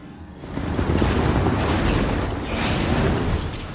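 A REV-8 rover in the video game Starfield drives along, a loud, steady rumbling engine and terrain roar that swells after a quiet start and holds up close without speech.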